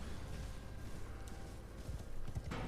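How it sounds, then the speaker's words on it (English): Hooves clip-clop steadily at a quick pace over a low rumbling background, a horse galloping fast in the video game Elden Ring, with no talking. "the end of the stream will in fact be me running away on a horse"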